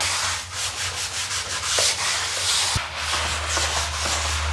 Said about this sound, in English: Teresa, I've given this another scrub